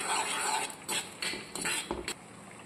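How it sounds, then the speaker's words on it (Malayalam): Three eggs being stirred and scrambled in coconut oil in a pan, with a run of spaced scraping and clinking spatula strokes and a steady low sizzle underneath, no voices. "ഇനി ഞാൻ ഒരു 3 മുട്ട എടുത്തിട്ടുണ്ട്. ഒരു ശകലം വെളിച്ചെണ്ണ ഒഴിച്ചിട്ടുണ്ട് ഇതിലേക്ക്. എന്നിട്ട് നമുക്കിതൊന്ന് ചിക്കി എടുക്കാം."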